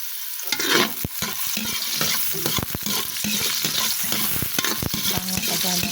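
Garlic sautéing in a pan for a homemade pakbet, with steady sizzling frying and repeated scraping stirs of a utensil against the cookware, close and continuous throughout.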